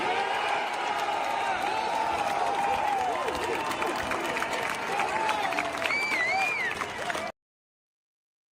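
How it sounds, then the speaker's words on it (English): Crowd at a rally cheering and applauding, a dense roar of clapping with whoops and shouts throughout, a few whistles rising near the end before it cuts to silence. "look at this, the crowd going wild."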